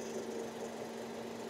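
A 2024 Maruti Swift 3-cylinder petrol engine idles with the air conditioning switched on, a steady low hum with a constant tonal drone and slight vibration, close and even throughout, no voices.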